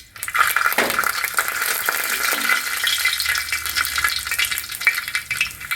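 Mustard seeds crackling and popping in hot coconut oil in a preheated pan, a dense, loud, continuous sizzle with rattling pops throughout.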